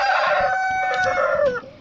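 A rooster crows once inside a coop at close range, a loud, harmonic call that rises and then trails off, with faint shuffling beneath it.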